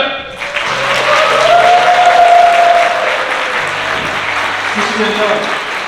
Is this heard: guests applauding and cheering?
yes